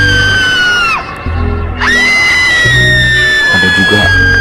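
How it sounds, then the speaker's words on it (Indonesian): Children running, laughing and shouting in a noisy room, with screams and whoops forming a loud, continuous crowd of young voices throughout. "Ada suara anak-anak berlari-lari,"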